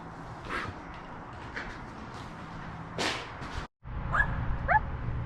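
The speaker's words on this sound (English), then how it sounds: "What are you woofing at, dog?" At the old buildings of North Wilkesboro Speedway, a dog barks about three or four times in short separate bursts from mid-distance, with a quiet gap before some faint sharper yips.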